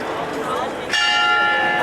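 A church bell at the St. Michael's Glockenspiel is struck once mid-clip, ringing bright and sustained over a crowd's murmur, clear and fairly close.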